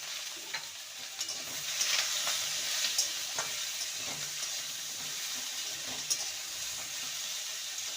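Pointed gourd and potato pieces fry on low flame with turmeric and salt, a soft continuous sizzle with scraping stirs and occasional sharp ticks from the pan, close and alone without talk.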